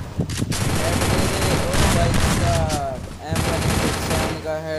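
Shotgun blasts from an M1887 in the Free Fire battle royale game, loud dense gunfire with booming reports and overlapping shots, dipping briefly before another burst, with someone talking excitedly over it.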